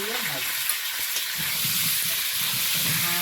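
Meat fries in a pan for a home-cooked meat curry, a continuous loud sizzle and hiss, with low stirring scrapes and a voice speaking faintly underneath.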